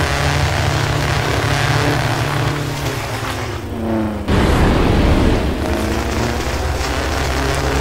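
Rocket engine thrust in the Trailmakers video game roars loudly and continuously, a dense rushing blast that dips slightly and then surges harder about halfway through, with no voices.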